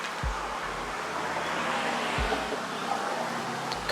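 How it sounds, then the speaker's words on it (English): A Chevrolet Camaro drives past on the road, a steady broadband rush of engine and tire noise with low thumps, moderately loud and fairly close throughout. "Camaro just drove by."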